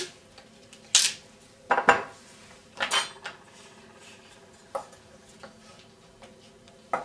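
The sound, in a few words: knife cutting celery on a cutting board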